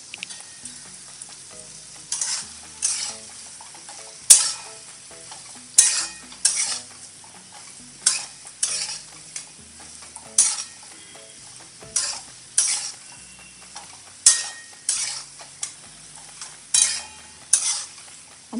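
Diced potatoes being stir-fried in a pan for a farali fasting dish, with crushed peanuts going in: a quiet, steady sizzle broken by repeated scraping strokes of a spatula about every second, close up and with no talking.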